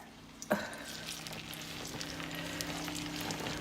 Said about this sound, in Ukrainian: взяли малесеньку сковороду, налили олії і починаємо робити драники по-львівськи